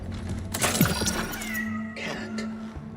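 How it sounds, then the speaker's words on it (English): A cat meows in the video game Cronos: The New Dawn: a couple of clear, drawn-out meows over a low, steady game ambience hum. "There's that cat."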